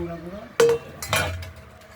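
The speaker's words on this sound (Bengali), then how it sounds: "আমরা প্রেশার কুকারের ঢাকনাটি খুলে কিছুটা ডাল সেদ্ধ হয়েছে" A metal pressure cooker lid clanks twice in a kitchen while lentils cook, two short sharp clinks close by, with faint talk before them.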